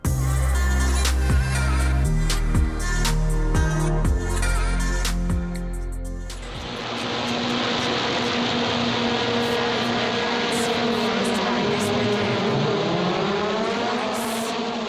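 Race car heard onboard at the Red Bull Ring in wheel-to-wheel racing, the engine loud and close, first with rhythmic upshifts, then settling into a sustained high, wavering drone as the car runs on.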